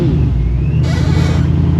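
A Procharged Ford Mustang GT fires up from a cold start, its loud engine rumble close by and steady for under two seconds, with a heavy low drone and a brief rise in higher whine partway through.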